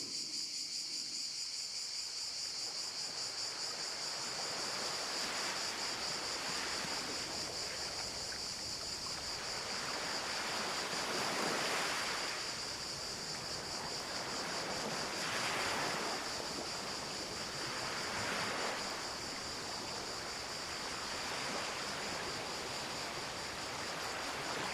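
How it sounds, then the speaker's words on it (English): Ocean waves breaking on a shore, slow rolling surges every few seconds under a constant high chirring of crickets and light wind, soft and distant. "It's time to return to the ocean shore."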